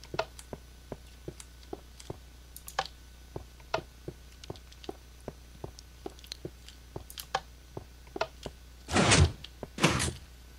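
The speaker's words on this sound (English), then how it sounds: "I'll show you what these pistons are like" Minecraft piston door mechanism clicking open in a video game: a steady run of sharp ticks and clacks at an even pace, then two louder whooshing bursts near the end, with no talk over it.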